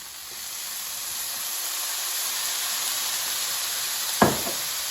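Soy sauce hitting sautéing frozen vegetables in a pan, a steady hissing sizzle that builds gently, with a short sharp clack near the end.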